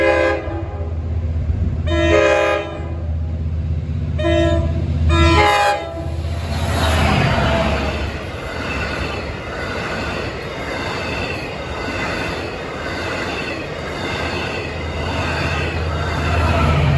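A Central Branch shuttle train passes close by, sounding several loud horn blasts before rolling through with a rumbling, screeching roar of wheels that carries on steadily.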